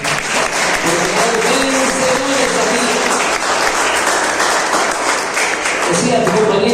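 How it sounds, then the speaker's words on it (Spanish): Loud, steady applause from a large crowd fills the whole stretch, dense and continuous without pause. "Yo creo que a alguien le tiene que dar un aplauso."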